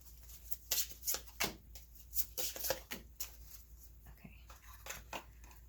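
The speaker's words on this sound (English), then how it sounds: "Let me shuffle them." Oracle cards being shuffled by hand for a pick-a-card reading, a series of soft papery riffles and slides in irregular bursts, quiet and close with no talking.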